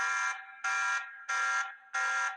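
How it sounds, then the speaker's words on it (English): A loud electronic alarm from a Tapo wireless security camera blares in four repeated bursts, each about a third of a second on and a short gap off, harsh and piercing, with no talking. "Looks like the alarm just went off."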